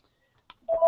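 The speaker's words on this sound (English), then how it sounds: "I'm sorry for the phone here. It just keeps ringing here." A telephone starts to ring indoors, a single bright electronic ring tone cutting in abruptly after near silence and a faint click.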